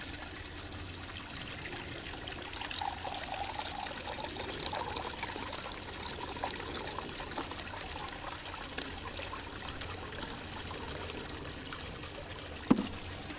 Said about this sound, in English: I'm gonna start by adding 16 ounces in the deep end return here.